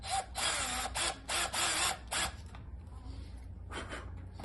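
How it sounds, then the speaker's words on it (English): A power drill bores a pilot hole into a pinball cabinet, several close, loud whirring bursts of about half a second each, with a quieter stretch between and then one more burst. "now we're gonna start a pilot hole"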